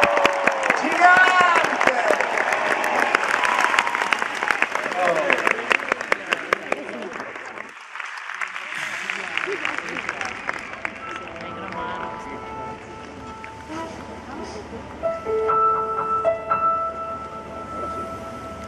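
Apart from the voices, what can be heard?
audience applause for Francesco at the Arena di Verona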